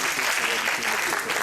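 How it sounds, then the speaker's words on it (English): A gathered audience breaks into a short burst of applause, a bright, dense patter of many hands clapping at once, brief and steady from start to end. "Round of applause."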